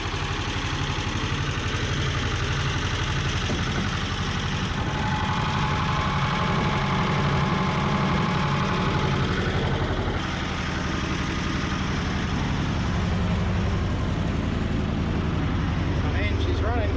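A Belarus 250AS tractor engine runs continuously at close range after its fuel system was cleaned, a loud, steady low-pitched chug throughout.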